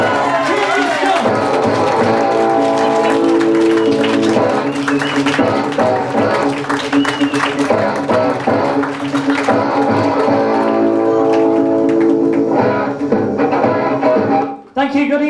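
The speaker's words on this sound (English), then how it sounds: "Round of applause for Mr. Tyson here." A live audience at a comedy hypnotist stage show in England greets heavyweight boxer Mike Tyson with sustained cheering and applause, the loud crowd noise mixed with music and a host's voice throughout before cutting off sharply.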